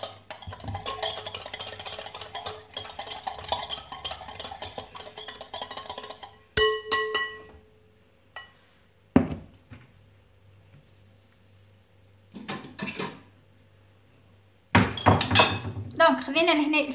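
Ingredients including brown sugar being mixed in a bowl for Tunisian youyou dough, a busy run of scraping and clinking utensil strokes followed by sparse knocks and clatters with quiet gaps.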